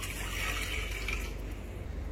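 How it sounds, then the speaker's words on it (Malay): Water, 500 ml in all, runs into a cooking pot in a steady, close, loud rush, its splashing pitch shifting slightly as the pot fills. "pertama kita gunakan air yang 500 ml air lah. 500 masuk dalam periuk lah."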